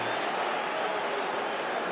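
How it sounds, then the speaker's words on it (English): A football crowd at a League One match between Leeds and Norwich City applauds a substitute who has won a free kick, a distant, steady wash of clapping and crowd noise. "A few rounds of applause as well"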